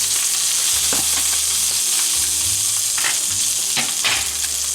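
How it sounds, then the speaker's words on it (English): Teriyaki salmon fries on a hot plate under a closed lid over low to medium heat, giving a loud, constant sizzle with occasional soft knocks and scrapes. "Now we close the lid and let it to be fried"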